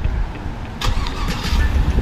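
A 2018 GMC Yukon XL engine cranks and starts with a push-button ignition, a short starter burst followed by the engine catching and settling into a rumbling idle, close by and with no talk.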